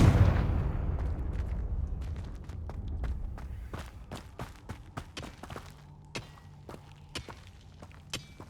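A Confringo fire spell blast in Hogwarts Legacy opens with a loud rumbling burst that fades, followed by scattered sharp cracks and impacts.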